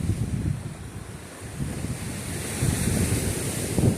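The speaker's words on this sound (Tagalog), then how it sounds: "Yung sound ng dagat, ang sarap." Sea waves washing in and crashing, a continuous rushing surf with wind buffeting the microphone, swelling slightly louder toward the end.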